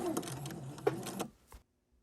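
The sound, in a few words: sewing machine backstitching quilt seam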